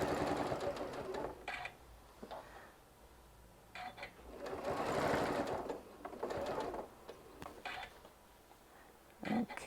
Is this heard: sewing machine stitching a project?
yes